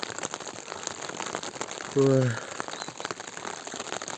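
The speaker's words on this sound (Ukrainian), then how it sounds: "Ось і дощик. Дощик почався ночі. Він так падає, падає." Steady early-morning rain falls in the Carpathian mountains, a soft continuous patter of drops on a surface with one brief louder tonal noise partway through.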